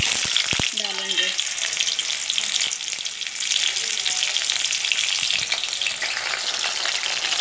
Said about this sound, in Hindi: ये देखिए हमारे परवल फ्राई हो रहे हैं।